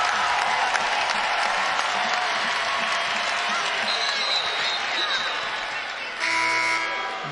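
A crowd at a Baylor versus Iowa State NCAA women's basketball game applauds and cheers loudly and steadily after a three-pointer, with a commentator talking over it and a brief horn-like tone near the end.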